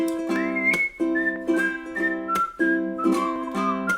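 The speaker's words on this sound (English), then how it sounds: "Everybody whistle." A group whistles the melody of a song during an online ukulele play-along, with ukulele strums underneath. The whistling is clear and sustained, sliding between notes in short phrases that repeat rhythmically, with no talking.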